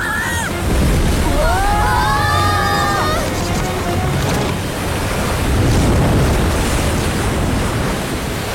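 Ocean waves at sea around a ship in an animated scene give a continuous rushing surge with wind noise, swelling twice, while a brief tonal voice-like sound rises early on.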